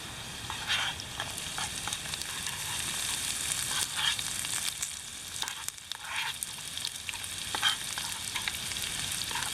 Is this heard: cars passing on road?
no